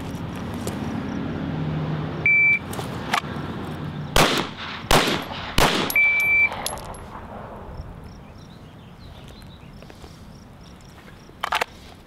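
A shot timer beeps, then a pistol fires a quick string of sharp, loud shots during a left-to-right headshot drill on a range, followed by quieter handling sounds.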